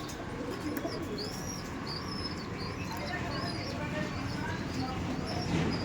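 Teddy pigeons cooing, a male pigeon among them, with soft repeated coos over a steady noisy background and faint chirps throughout.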